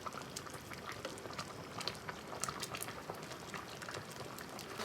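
Homemade mango pickle (aamer achar) boils in a pot, a quiet, continuous bubbling with dense small pops and gurgles heard close up.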